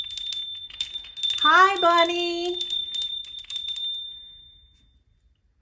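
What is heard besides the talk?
little hand bell ringing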